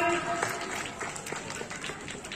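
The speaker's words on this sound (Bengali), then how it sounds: "সবাই একটু করতালি দিয়ে অভিনন্দন জানাবেন।" An audience at a village children's fair gives scattered, fairly faint applause to congratulate the anchor, with loose uneven claps and some voices in the crowd.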